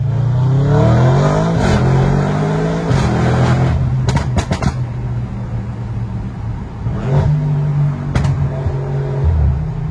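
Audi RS6 C8 with a V8 engine and Stage 2 Milltek exhaust, revving loudly and close up with rising and falling engine tones and sharp crackling pops, a steady deep rumble throughout.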